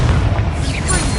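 A blasting-spell explosion in Hogwarts Legacy, a loud, deep boom with a rumbling low-end burst that fills the whole short moment, close and heavy, with a voice briefly mixed in.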